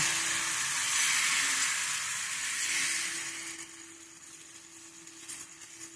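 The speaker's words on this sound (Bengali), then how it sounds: "এই গোলাটা এক হাতা ফ্রাই প্যানে দিয়ে দিলাম।" Mango kheer patishapta batter sizzles in an oiled frying pan, a loud steady hiss that fades to a quieter crackle, close and without talk.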